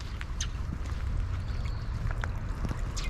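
Steady rushing of a clear stream flowing beside cherry trees in Japan fills the clip, a continuous low burble with occasional brighter splashes.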